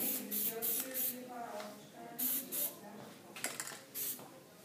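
Aerosol spray paint can hissing in repeated short bursts for spray-paint art on paper, close and fairly loud, with pauses between blasts and a voice talking faintly in the background.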